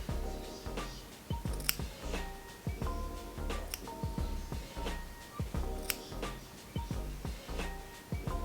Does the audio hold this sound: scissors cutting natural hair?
yes